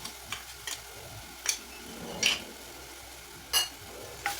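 Garlic paste and ginger paste frying in a pan, a soft sizzle broken by a few sharp clinks and scrapes of a stirring utensil, close by, with no talking.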